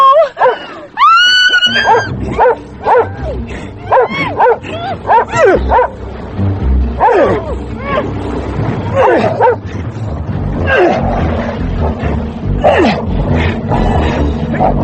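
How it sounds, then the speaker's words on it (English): A dog in a radio drama barks, yelps and whimpers loudly and repeatedly in fast excited bursts, with a voice crying out in between. "Goddamn dog!"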